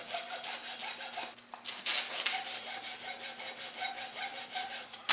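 A hand saw rasps back and forth through a frozen block of raw dog food in quick, even strokes, close and continuous with one brief pause.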